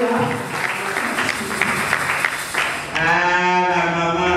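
A church congregation applauds a woman during a vow-exchange ceremony, steady clapping from a crowd under a speaking voice, ending in a sustained high vocal cheer or ululation.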